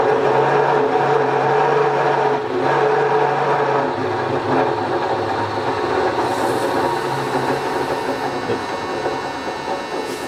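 A drill press with a 1.9 horsepower motor runs with a loud, continuous mechanical whir and rumble that holds steady throughout, with no speech.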